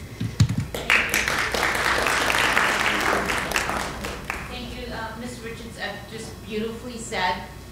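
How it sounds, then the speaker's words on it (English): An audience claps briefly at a school gathering honouring teachers, with loud clapping at first, then fading as a person starts talking over it. "Give yourself a round of applause"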